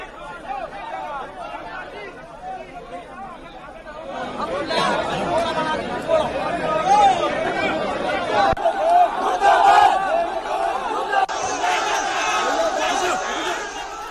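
A crowd of rival party supporters outside the Congress war room in Rajasthan, a dense chatter of many voices swelling louder with shouting, with a voice speaking over it.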